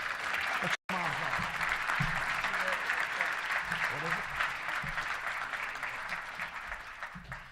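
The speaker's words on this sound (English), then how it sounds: "let's give them all a round of applause representing Jarius" A touchdown club luncheon crowd applauds for a player's parents, broad even clapping after a brief cut at the start, easing slightly toward the end, with faint voices underneath.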